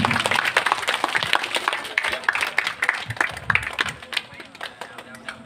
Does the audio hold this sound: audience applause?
yes